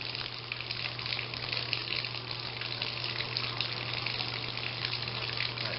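Water pours steadily from a faucet fed by a Marey PP220 tankless water heater, a continuous close gushing hiss with a low hum underneath, no voices.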